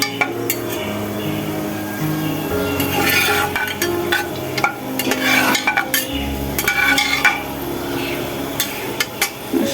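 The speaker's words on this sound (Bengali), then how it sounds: "4-5 সেকেন্ডের মতো একটু গোটা মশলাগুলো ভেজে নিতেছি" Whole spices frying briefly in hot oil in a pan, with a soft sizzle under intermittent stirring and clinks of a spoon against the cookware, close and moderately loud.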